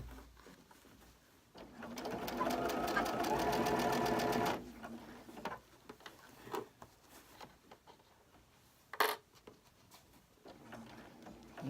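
A sewing machine stitches fabric for a pillow case in a fast, even mechanical whir lasting a few seconds, close and clear. It then stops, leaving soft handling noises, a brief sharp click, and birds cooing faintly in the background.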